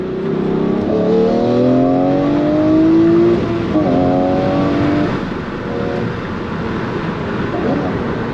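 A Lamborghini Murcielago engine accelerating, loud and close, its tone climbing through rising revs, with a brief shift around the middle before it settles into a steadier drone.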